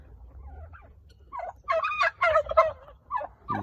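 Turkey on a homestead gobbling in bursts of rattling, warbling calls, several repeated phrases at moderate distance, clear over a quiet low rumble with no talk.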